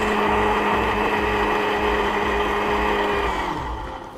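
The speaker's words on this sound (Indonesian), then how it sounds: "sekarang kita akan blender bumbunya sampai benar-benar halus." An electric blender grinds spice paste for nasi bakar ayam kecombrang, a steady loud whirring drone that runs continuously and tapers slightly at the end, with no voices.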